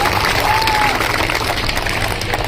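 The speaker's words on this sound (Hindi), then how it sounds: "ऐसे दिलदार जानदार ऐसे भले आदमी को सब एक बार जोर से ताली बजा दे" A large crowd at a mass wedding event in Malegaon breaks into loud, sustained applause, a thick continuous patter of many hands with some cheering mixed in.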